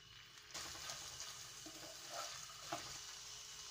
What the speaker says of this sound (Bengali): তো প্রথমেই আমি তেলে দিয়ে দিব হচ্ছে আমার ধুয়ে রাখা যে রাইস, সেই রাইসগুলো দিয়ে আমি এটা হালকা একটু ভেজে নেব